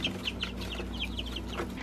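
Black Copper Marans and Olive Egger chickens cluck nearby in a run, soft repeated clucks in a loose rhythm over a steady low hum.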